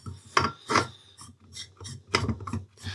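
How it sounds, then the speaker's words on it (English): Air bottle being screwed onto an AGT Uragan 2 air rifle, giving a series of close, uneven ratcheting and grinding clicks in short bursts, with no talking. "So, we'll get it screwed on here."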